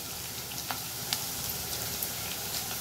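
Oil and ghee frying in a pan while making carrot rice, a soft, even sizzle with faint crackles and occasional light pops, heard alone.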